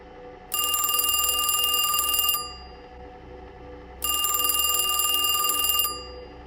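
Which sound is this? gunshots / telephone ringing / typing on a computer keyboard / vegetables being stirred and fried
telephone ringing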